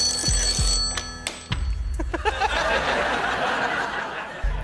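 The banker's telephone rings in the Deal or No Deal UK studio, a few bright ringing tones near the start, followed by audience chuckles and murmurs.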